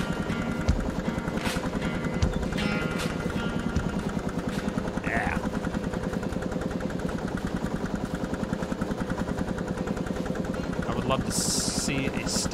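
A tractor engine in Farming Simulator 22 drones steadily with a fast rhythmic thrum throughout, while a person talks over it.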